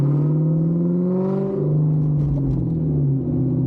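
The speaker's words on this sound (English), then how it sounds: "this is how the car sounds normally" A 1999 Kenne Bell supercharged Mustang Cobra engine pulls away gently from a stop, a steady low rumble with a rising and falling tone as it drives at light throttle, close and continuous.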